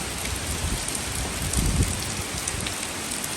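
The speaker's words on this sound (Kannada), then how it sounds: "ಜೋರುಂಟು ಮಳೆ." Heavy rain pours down steadily, a dense even hiss of drops hitting surfaces close by, with no voices.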